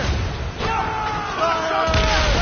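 Cannons fire on command in a video game. Heavy booms rumble with a continuous roar, and whistling tones rise and fall over the top.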